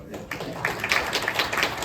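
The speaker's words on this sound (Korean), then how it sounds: "저 김민기 위원장님 박수 한번 보내드립시다" Applause for committee chairman Kim Min-ki at a National Assembly construction infrastructure forum, a dense, steady patter of many hands clapping that starts abruptly and fills the room.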